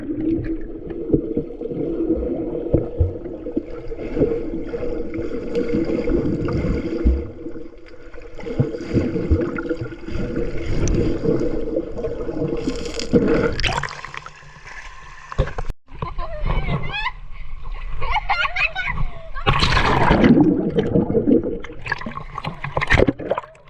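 River water runs and splashes steadily throughout, a close, continuous rushing flow with brief louder surges toward the end and faint voices now and then.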